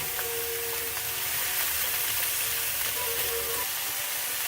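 Celery goes into a hot pan already sizzling with carrots and garlic, a loud, continuous frying hiss with faint clinks of stirring and no speech.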